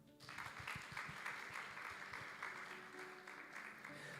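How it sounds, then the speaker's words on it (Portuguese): Church audience applauding for a young girl named Alicinha after she finishes her part, a steady, moderately distant wash of applause sustained throughout. "Palmas para a Alicinha."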